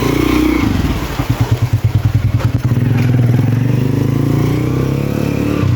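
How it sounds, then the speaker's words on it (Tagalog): Motorcycles ride past on a road as people head to work, with a close engine rumble, a pulsing throb as one passes, then steady traffic noise. "maraming mga motor kasi papasok nila sa trabaho nila"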